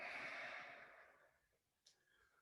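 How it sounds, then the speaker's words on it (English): A cleansing breath exhaled out through the mouth during a Taijiquan and Qigong session, one long soft breathy rush that fades over about a second and a half, followed by a faint short puff. "Breathing out through the mouth, a cleansing breath."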